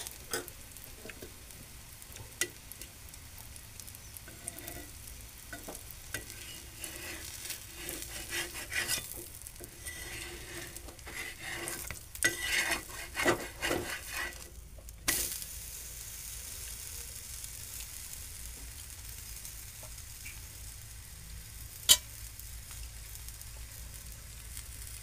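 Besan ghavan frying in oil on a pan, a steady low sizzle running throughout with occasional scraping and clinking of a spatula against the pan.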